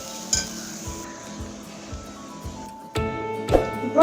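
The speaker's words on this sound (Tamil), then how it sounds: "அடுப்பை ஆஃப் பண்ணிட்டு நம்ம சாதத்தை போட்டு கிளறிக்கிறோம்." Cooked rice is stirred into a coconut oil tempering in a pan with the heat switched off, a soft faint sizzle under a few scraping strokes and a sharp clink or two of the spoon against the pan, with no talking.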